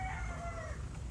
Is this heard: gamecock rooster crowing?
yes